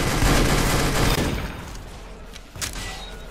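Minigun firing in the Roblox game Arsenal: a loud, continuous, dense stream of rapid shots that fades after about a second into a quieter rumble, with a faint thump near the end.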